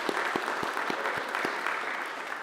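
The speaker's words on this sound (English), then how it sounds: "I think we need to give Stan a round of applause for the hard work he's been doing." An audience at a church business meeting applauds, a steady patter of claps heard fairly faintly for a couple of seconds with no voices over it.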